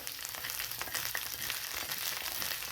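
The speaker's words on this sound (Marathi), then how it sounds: "आणखी इकडे ही आपली भेंडी तेलामध्ये छान अशी भाजलेली आहे" Okra frying in oil in a pan, a soft, fairly faint crackling sizzle with a few light stirring taps, steady and close with no speech.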